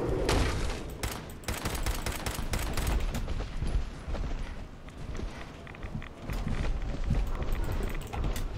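Shotgun fired in Fallout 4: a rapid run of loud gunshot bursts over about eight seconds, mixed with clattering combat noise and footsteps, close and continuous.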